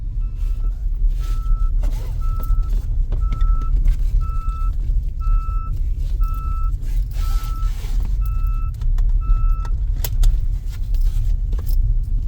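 A learner's car driving on the road while shifting into second gear, with a steady low engine rumble and a regular electronic beeping pattern repeating throughout.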